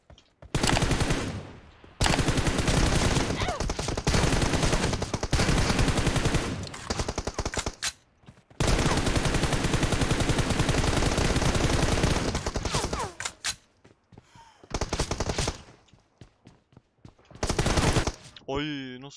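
Rapid bursts of automatic gunfire from a PUBG Mobile match, loud and sustained in several long volleys separated by short pauses, with someone talking in between.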